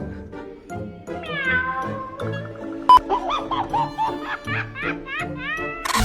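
A woman imitates a cat with rising meows and a caterwaul, then a string of short mews. Laughter and chuckling surround the calls, which are close and clear.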